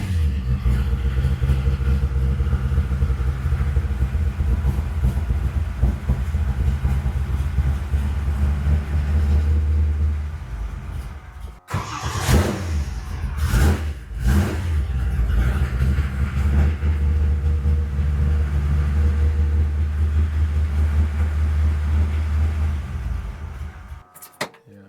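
A 1955 Chevy engine runs in a loud, steady idle after its first start, cuts out briefly with a few sputtering revs midway, then settles back into a rumbling idle.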